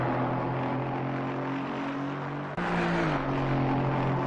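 A turbocharged Aston Martin race car engine in Assetto Corsa Competizione holds a steady, strained drone at Red Bull Ring, with a brief dip and gear shift midway, then keeps roaring at high revs.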